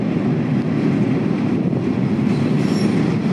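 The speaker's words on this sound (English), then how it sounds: "like this S-822, also crossing the Trout River, now taking empties back to Blunt for loading onto ships elsewhere" A CSX freight train hauling empty cars rolls across the Trout River bridge, a steady loud rumble of wheels on rail with faint squeal, continuous and close throughout.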